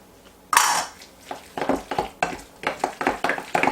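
Guacamole with cumin and salt is mashed and stirred in a bowl, a sharp initial clatter followed by a run of rhythmic, squelchy scrapes and taps of the tool against the bowl, close and moderately loud.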